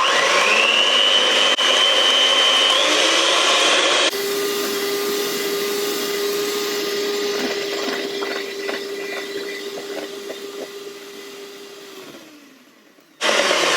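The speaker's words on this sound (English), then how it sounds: "we are going to give them a good whisk with the machine in here." Electric mixer whisking eggs and sugar for a molten chocolate lava cake, a loud steady motor whine that shifts pitch as the speed changes, then winds down and cuts out before starting again.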